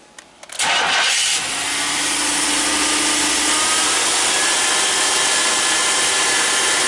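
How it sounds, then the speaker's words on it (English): A Buick Grand National engine with a no-power fault cranks and starts, then settles into a loud, steady high idle that drones on without change. "It's idling high."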